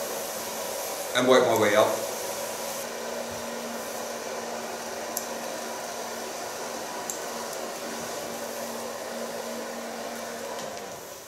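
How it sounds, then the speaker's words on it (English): A hair dryer blows steadily on a punk-style asymmetrical bob during a makeover, a constant close whoosh that runs the whole time, with a brief voice speaking near the start. "Start blow drying in the other lines."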